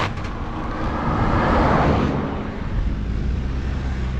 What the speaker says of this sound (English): Nearly got hit by a car then at the back.